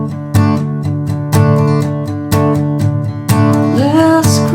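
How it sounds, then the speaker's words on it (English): Acoustic guitar playing chords in D with simple down strumming, four loud, evenly spaced chord strokes ringing out, with a brighter final strum and no voice. "with some simple down strumming,"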